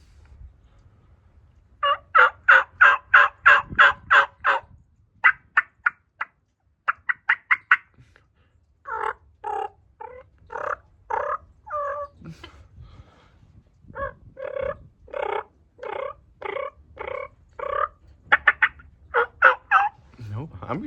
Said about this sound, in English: we got a turkey farm and the hens that we grow generally don't sound very raspy